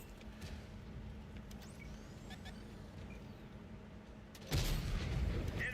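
A tank cannon fires in World of Tanks, a sudden loud boom that sets off a burst of crackling noise over a steady engine rumble, heard once near the end.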